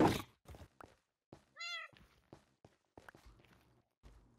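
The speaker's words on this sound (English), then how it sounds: "Wutax is playing cat sounds on me." Cat sounds played in Minecraft: one clear synthetic meow stands out amid scattered soft thunks and footstep-like taps, faint and intermittent with quiet gaps between.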